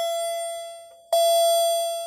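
A bright electronic chime from a Kone elevator arrival signal rings out twice, the second tone sustained and slowly fading, clear and close with no talking, at a former Sears in Moorestown Mall, New Jersey.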